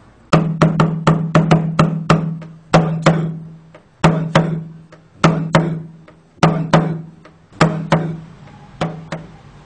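Resonant frame drum strikes fall in repeating two-beat groupings, each pair of close, loud hits followed by a short gap, ringing with a low tonal body, with no one speaking.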